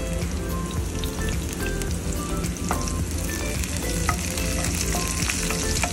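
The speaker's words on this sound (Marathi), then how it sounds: "जिरे छान परतून झाल्यानंतर आपण यामध्ये कढीपत्ता ॲड करायचा." Cumin seeds and curry leaves sizzle steadily in hot oil in a pan, a dense, even crackle that continues without a break, with light stirring noises.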